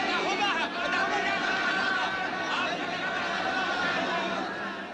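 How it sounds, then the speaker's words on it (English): A crowd chatters and murmurs in a continuous dense babble of many overlapping voices, with scattered chuckles, steady and fairly loud throughout. "Listen to the crowd!"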